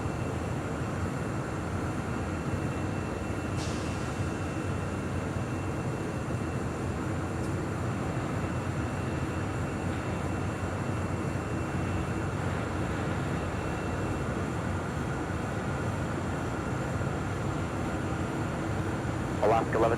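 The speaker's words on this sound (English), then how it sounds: "we do have a United Dreamliner, 787-9 Dreamliner heading to London, flight 923. She's rolling down taxiway Bravo." A United Boeing 787-9 Dreamliner bound for London taxis down taxiway Bravo at LAX, a steady, droning jet-engine rumble that holds level throughout with faint radio chatter over it.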